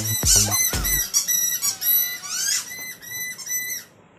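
A squeaky toy ball squeaks in a quick burst of sharp, high squeals, loud and close, then keeps up several shorter squeaks before stopping near the end.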